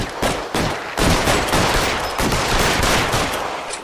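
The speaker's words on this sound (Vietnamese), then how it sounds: "Em coi tôi bắn quá trời mà không xi nhê." Rapid bursts of gunfire in the crime video game L.A. Noire, loud and dense, with repeated shots and overlapping volleys filling the whole stretch.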